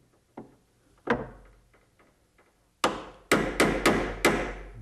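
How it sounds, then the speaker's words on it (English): A sharp wood chisel struck into hard oak to clear a hinge mortise on a bathroom vanity, starting with a few light taps and building to five heavy mallet blows near the end, close and crisp. "just using a chisel, I'll remove the right amount of material"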